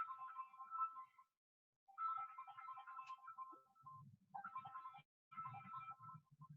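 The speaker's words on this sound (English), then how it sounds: "That's a stupid phone again." A phone rings faintly in bursts of a repeating electronic tone with short gaps between them, heard in a kitchen during a pantry sushi demonstration.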